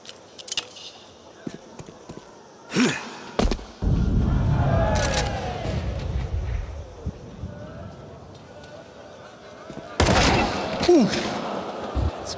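Gunfire in the Counter-Strike 2 video game during a professional esports grand final, several sharp loud shots spread across the clip, with a longer rumble midway and other game sounds between.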